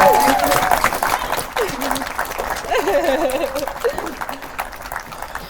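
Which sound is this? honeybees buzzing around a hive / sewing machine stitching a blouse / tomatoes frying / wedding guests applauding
wedding guests applauding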